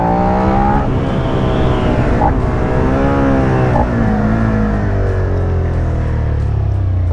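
A 2016 Suzuki SV650 motorcycle engine accelerates up through the gears, a loud, close harmonic drone rising in pitch with shifts and gradually settling, with no talk over it.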